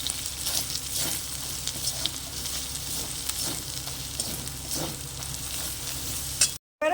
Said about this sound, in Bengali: দিয়ে ভালো করে আবারও কষিয়ে নেব।